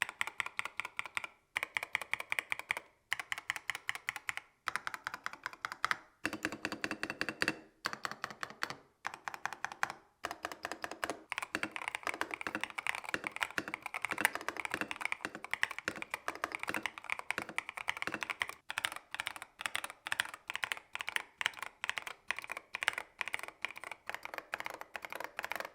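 Typing test on a mechanical keyboard: fast, close, crisp clacking keystrokes in bursts, with short pauses early on, then a long, dense, continuous run of keypresses with no talking.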